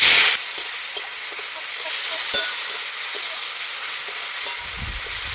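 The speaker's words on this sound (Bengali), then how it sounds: "এবারটা আমি টমেটো ঢেলে দেবো" Tomatoes tip into hot oil spiced with dried chilli and five-spice tempering for a chutney, setting off a loud initial hiss that settles into steady, close sizzling with small pops and a faint stir near the end.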